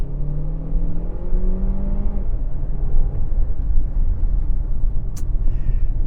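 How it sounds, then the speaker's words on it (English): A Chery Tiggo 8 Pro engine revs up with a rising, whirring drone that climbs in pitch and then settles into a steady low road rumble, heard from inside the cabin without talk. "Then you can hear more of the grunting of the engine."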